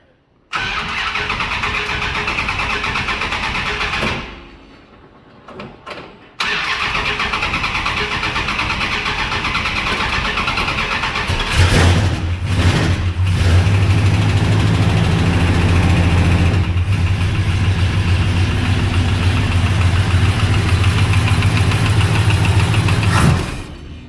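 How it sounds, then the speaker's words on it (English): A Dodge Coronet engine cold-starts: a steady hum runs for a few seconds, drops briefly, resumes, then a loud deep rumble catches and settles into a sustained idle close by, with no talking. "Karl's gonna give us a little cold start video"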